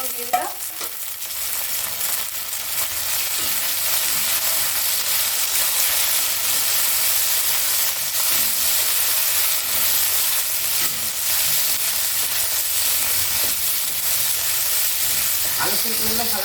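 Potato and cauliflower pieces fry loudly in a pan with steady broad sizzling and hiss, joined by occasional scraping stirs, continuous and close throughout.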